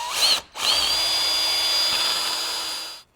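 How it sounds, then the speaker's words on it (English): A power drill bores at an angle up through the bottom of a stretcher into the leg of a teak all-weather loveseat. One short whine stops briefly, then a loud, steady high-pitched run lasts about two and a half seconds before cutting off. "I'm going to come in from the bottom of the stretcher and drill at an angle into the leg."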